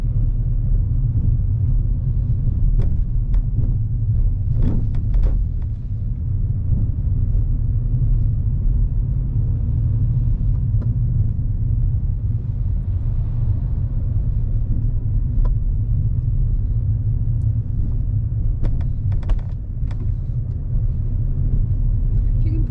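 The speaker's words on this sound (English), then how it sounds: "On approach to any meeting encounters, Ram slows down really well, leaving enough clearance from the oncoming vehicle as well as any parked vehicles." Car interior engine and road rumble during a mock driving test on suburban roads in Ashford, London, a steady low drone throughout with a few faint clicks, under occasional quiet speech.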